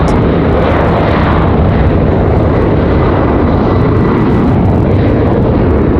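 A jet airliner at Raleigh-Durham airport roars steadily and loudly throughout, a broad continuous engine rush with no pauses.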